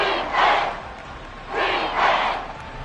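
A football stadium crowd in Madden 24 roars in two big swelling waves of chanting and cheering during a tense third-down moment.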